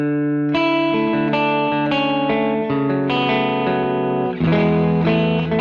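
An electric guitar plays sustained chords through a room-type reverb pedal, drenched in short, roomy reverb, each strum blooming and ringing out smoothly.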